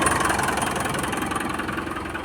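A Mitsubishi Montero's 4D56U diesel engine idles close by with a steady, rough, rapidly pulsing clatter, heard alone and holding even throughout.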